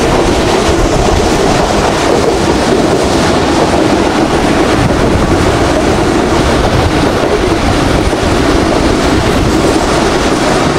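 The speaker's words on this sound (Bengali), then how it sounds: "আর এই যে আমার ট্রেন ছুটে চলছে এরকম পাহাড়ি এলাকা দিয়ে" A Pakistani passenger train on the Islamabad to Multan route runs through hilly country, a loud, continuous rush of wheels and carriage rattle heard from onboard without letup.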